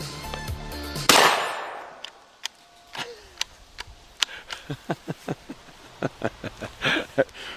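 A cheap Chinese shotgun fires lead-free biodegradable ammunition: one sharp, loud blast rings out early, followed by a run of crisp, evenly spaced clicks and ticks.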